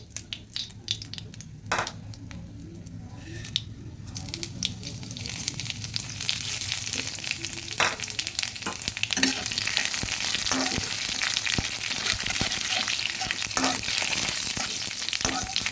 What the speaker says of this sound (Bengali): জিরেটা যখন ভাজা হয়ে আসবে